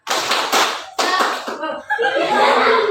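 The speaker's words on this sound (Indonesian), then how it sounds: "Tepuk semangat" A school class performs a rhythmic clapping chant in a classroom, sharp bursts of hand claps in short groups with voices and brief laughter between them.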